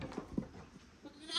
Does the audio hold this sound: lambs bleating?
yes